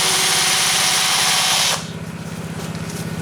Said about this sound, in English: When you feel your drill start to bind, back off and take your time.